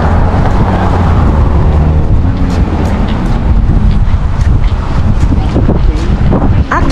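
Strong wind in Toronto, Canada buffets the microphone with a loud, continuous low rumble and roar throughout, no other clear sounds standing out.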